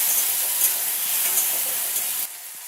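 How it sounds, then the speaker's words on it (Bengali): Chopped tomato fries in a spice tempering, a loud, even hiss of sizzling oil that drops suddenly near the end, heard close with no talk. "ফোড়নের সাথে ভেজে নেব।"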